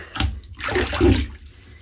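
Water splashing as a face and a 1950s GEM Featherweight safety razor are rinsed after shaving: a short splash, then a longer gush of running water, close and brief.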